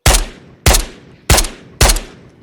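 Four gunshots in the VR shooter Ghosts of Tabor, sharp loud cracks evenly spaced about two-thirds of a second apart, each with a short decaying tail and no talking.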